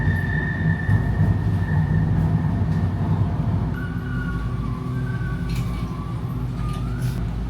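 An LRT Line 1 light rail train on the Cavite Extension runs between stations, a steady loud rumble of wheels and motors throughout with a few rising tonal whines from the drive, no talk.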